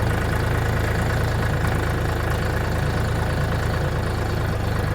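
DTZ 5244HPX mini tractor engine pulling uphill over rough terrain in low first gear with front-wheel drive engaged. It makes a steady, close, loud mechanical drone throughout, with no talk.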